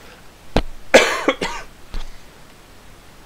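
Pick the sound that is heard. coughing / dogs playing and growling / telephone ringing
coughing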